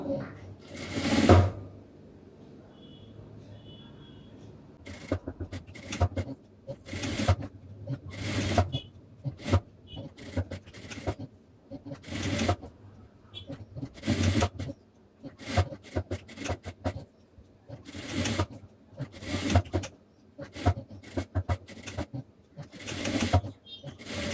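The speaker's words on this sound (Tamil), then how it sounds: "ஸோ இப்போ ஸ்டிச் பண்ணி முடிச்சாச்சு" A sewing machine stitches a blouse in short repeated bursts separated by pauses, with handling rustles and shuffling between runs.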